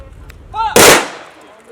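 A rifle volley fired at a military funeral for a late army chief cracks out as one loud, sharp burst, with a long echo trailing off. Just before it, a commander barks an order.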